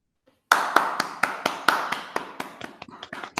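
Sparse, uneven hand claps begin sharply after a moment of silence at a leadership talk on HR and diversity, a few close claps rhythmically spaced and gradually thinning, with no voices.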